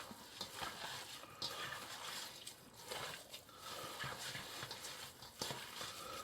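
Salt being mixed by hand into cheddar cheese curds, a faint, soft squelching and rustling of curds pressed and turned, in irregular bursts close by.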